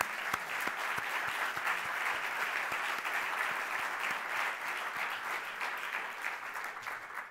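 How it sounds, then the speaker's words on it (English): Faint, sustained applause from an audience at a university global health conference, many hands clapping in a steady wash with a few distinct nearer claps, fading at the very end. "So let's have a round of applause for all of them."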